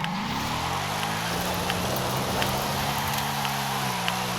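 The engine of a 2018 Ford Mustang RTR in Forza Horizon 5 climbs steadily in second gear toward redline, a loud, continuous rising drone with faint tire noise, and no speech over it.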